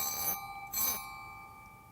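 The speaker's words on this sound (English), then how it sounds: "Hey, it gives like a school bell." Metal heat sink fins struck to ring like a school bell, two short bright ringing strikes with sustained high tonal overtones that linger and fade between and after them, clear and close.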